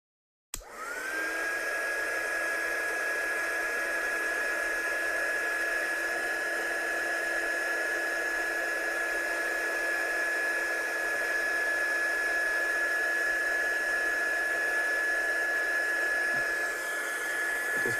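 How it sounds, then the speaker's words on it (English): Heat gun blowing steadily for about seventeen seconds while heat embossing a handmade card, a loud, continuous airy whoosh with a constant high motor whine, no talking. "And then blow it over with a heat gun"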